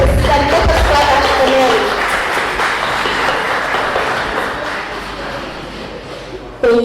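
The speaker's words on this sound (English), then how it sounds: "Please do take a seat and let us clap for Nellie." Sustained applause from a crowd fills the room, steady and fairly loud, slowly tapering off toward the end.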